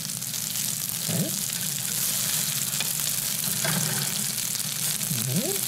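Potato pancakes fry in a pan with a steady, bright sizzle throughout, broken by a few faint squeaks of utensils or stirring.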